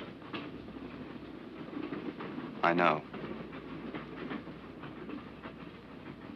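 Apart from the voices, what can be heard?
train running on rails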